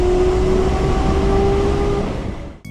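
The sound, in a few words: BMW inline-six engine revving high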